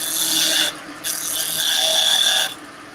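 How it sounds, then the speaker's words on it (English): A skew chisel cuts wood on a lathe, defining the pommel at the square section of a table leg, giving a steady close-up rasping shear broken by a brief pause partway through. "Now, what I'm doing here is defining where the pommel is, the square section on the leg. You do that with a skew chisel."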